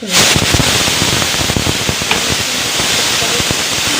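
Beef cooks in a pressure cooker on the stove, releasing a loud, dense rush of hissing steam that holds steady for several seconds with crackly spurts mixed in, heard close with no talk.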